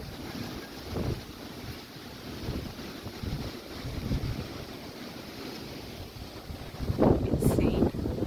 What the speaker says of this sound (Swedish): See if you can hear the wind.